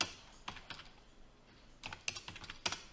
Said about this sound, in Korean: 숫자 패드를 이용해서 쓰는 거고요.